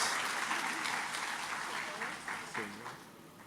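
A church congregation claps during a service, a broad, sustained wash of applause that gradually fades, with a voice speaking over it.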